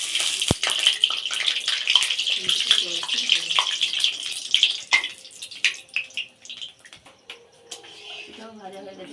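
Pitha frying in hot oil at home, a bright hissing sizzle that fades over the first half, giving way to scattered utensil clinks and quiet talk.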